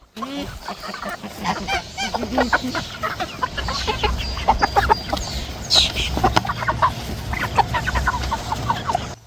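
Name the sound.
broiler chickens clucking at feeding time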